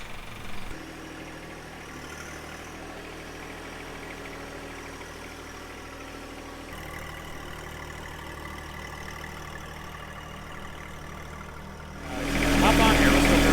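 A John Deere 2025R compact tractor engine idles steadily as a low, even drone while people talk over it, then grows noticeably louder near the end.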